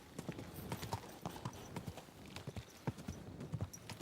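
Horse hooves clip-clopping at a steady walking rhythm on hard ground in the video game Kingdom Come: Deliverance 2, moderately close with faint background ambience.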